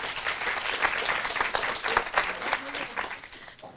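Audience applause at a university pitch competition, a room full of clapping hands sustained throughout, moderately loud with dense irregular claps and a faint voice near the end.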